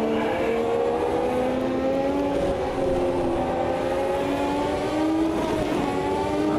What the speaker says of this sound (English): Revs, we like revs.